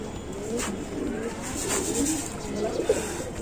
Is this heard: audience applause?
no